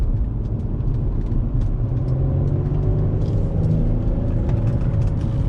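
An Infiniti G35 is driven hard, its engine a loud, sustained roar with rising revs and rumble heard from inside the cabin with the windows up.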